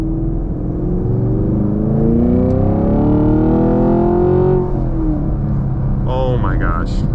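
A 2024 Chevy Camaro SS Collectors Edition accelerates, its exhaust and engine note climbing steadily in pitch for several seconds before easing off; loud and close, with a few brief higher sounds near the end.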